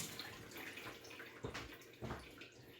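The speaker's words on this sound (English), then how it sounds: "So let me rinse my hands real quick." Water from a kitchen tap runs steadily while hands are rinsed between mixing steps of cornbread dressing, a soft continuous splashing with a couple of stronger gushes, fairly quiet and with no talking.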